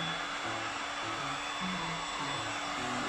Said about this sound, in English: I'm going to warm up the panel a little bit before I wrap